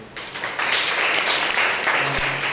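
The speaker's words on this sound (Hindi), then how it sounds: "आपस में एक ताली बजा सकते हैं।" Congregation at a Sunday morning church service clapping for one another, a steady broadband wash of hand claps that swells after a brief start and holds at moderate loudness.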